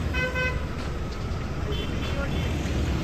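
A vehicle on a road during a festival procession, with a horn tooting briefly and steady traffic noise underneath, close and fairly loud.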